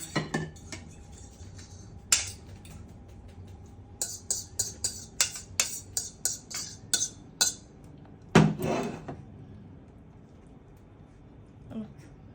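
Plates and dishes clink and clatter while instant noodle salad is served, a run of sharp ceramic knocks in uneven rhythm, close and fairly quiet, with a voice talking at times.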